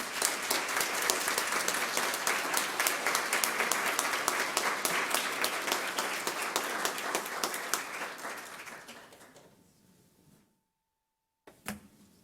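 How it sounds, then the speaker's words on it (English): Applause from the audience at a school district governing board meeting, a broad crowd of clapping that holds steady, then thins and fades into near silence, followed by a brief knock or bump near the end. "How about a giant round of applause?"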